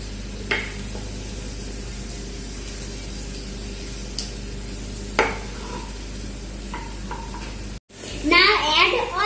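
A tomato pizza sauce is stirred in a pan with soft scraping and a low sizzle, punctuated by a few sharper clinks of utensil against metal and a louder burst of stirring at the end.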